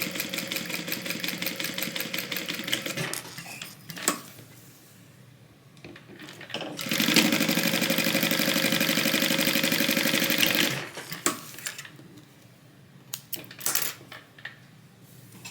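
A sewing machine top stitches a tote bag seam at a quarter-inch allowance, running in two sustained whirring bursts with quieter handling clatter between them, close and loud.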